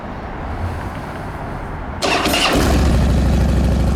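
A 2009 Harley-Davidson Dyna Fat Bob motorcycle with about 138,000 miles cranks and fires up midway, shifting from a quiet background to a loud, close, rumbling idle that continues to the end.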